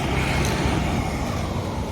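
Car running on a national highway, a loud constant engine and road rumble from inside or close by, with no talk heard.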